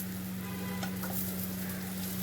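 Fish roe fries with garlic and ginger in oil and gives a soft, even sizzle that lasts throughout, with a low steady hum beneath it and a few light stirring scrapes. Nobody speaks.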